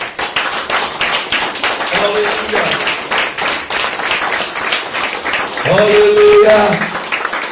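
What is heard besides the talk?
congregation clapping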